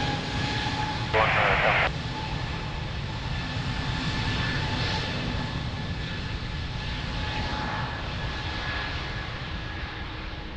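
A jet airliner rolling for takeoff on runway 02 at Lisbon Airport, a steady broad engine roar with a whining tone throughout, heard under radio chatter from air traffic control.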